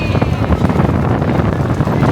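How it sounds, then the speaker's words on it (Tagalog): Loud gusting wind buffets the microphone in a constant low roar, with rumbling bursts and no clear speech. "Mahangin siya, guys."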